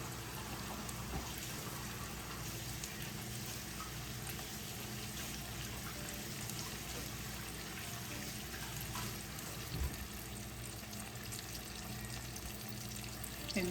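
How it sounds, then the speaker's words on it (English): Tap water runs steadily into a kitchen sink while hands are washed under it during squash and zucchini cooking, a continuous close hiss and splash with brief louder splashes and no talk. "I'm gonna wash my hands really quick"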